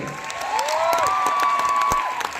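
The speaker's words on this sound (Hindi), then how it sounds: "एक बार जोरदार तालियां आशीष सर के लिए।" An audience at a seminar session claps steadily in a dense burst of applause, with a faint whistle-like tone sliding through it.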